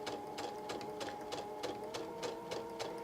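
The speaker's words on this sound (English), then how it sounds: "So just sewing scant on the inside of those drawn lines, starting on the right side, using those drawn lines as my guide." A sewing machine runs steadily while stitching quilt triangle seams along drawn lines, giving a regular rhythmic clatter with a faint mechanical hum, moderately quiet and close.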